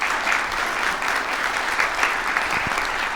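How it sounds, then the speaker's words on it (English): Warm applause from an audience for a speaker at a community conference, a thick continuous rattle of many hands clapping at close range. "Let's give Dr. Jolly a round of applause."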